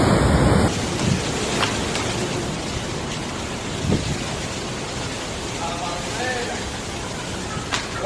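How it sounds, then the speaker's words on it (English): Heavy storm rain pours steadily with gusting wind during a storm over Spain and Portugal, a dense continuous wash of noise with a few brief louder bursts, no voices. "has brought heavy rain and strong winds to Spain and Portugal"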